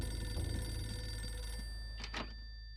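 An old-style telephone bell rings inside the horror video game Eternal Darkness, a quiet burst of two short rings near the end over a low steady hum.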